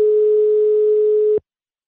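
A steady, continuous telephone ringback tone sounds on an outgoing call, holding for over a second before cutting off abruptly into silence.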